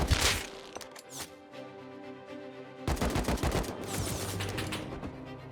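AK rifle fire in a video game: bursts of rapid, sharp cracking shots, loud and close, with pauses between volleys.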